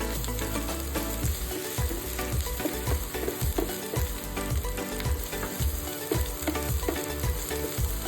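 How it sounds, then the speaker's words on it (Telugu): Sliced onions and ginger paste fry with turmeric for a prawn curry, a dense, close, continuous sizzle broken by regular stirring scrapes, with no talking. "పసుపు వేసి కలిపేసి కొంచెం ఫ్రై చేద్దాం."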